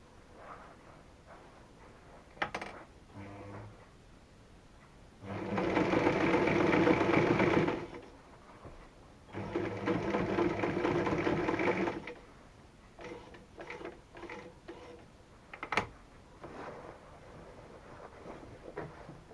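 Sewing machine running two steady bursts of stitching, each a few seconds long, as a decorative seam is sewn along leaf outlines on a patchwork dish-drying napkin, with quiet handling sounds between runs.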